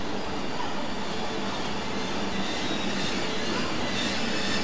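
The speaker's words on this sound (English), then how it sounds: "And here it is, the train for Milan." An Italian passenger train bound for Milan pulls into a station, a steady loud roar of wheels and carriages with rail squeal filling the whole stretch, no voices over it.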